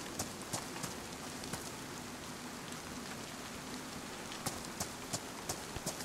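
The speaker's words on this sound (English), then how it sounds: "Well, I'm just trying to get out of the rain." Steady rain in the survival video game DayZ, a dense continuous patter with scattered sharper drops and taps landing irregularly, no one talking.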